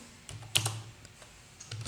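A few quick keystrokes tap on a computer keyboard while writing a Python string example, close and crisp, in short irregular bursts with no talk.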